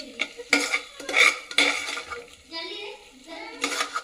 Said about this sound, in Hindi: ये पनीर का सब्जी बन रहा है।